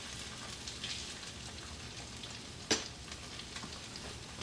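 Two jumbo eggs fry in a pan with a continuous close crackling sizzle, broken by one sharp scrape or pop partway through.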